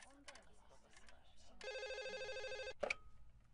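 A telephone rings on an outgoing call, a buzzing electronic ring tone lasting over a second amid quiet room sound, followed by a short clunk.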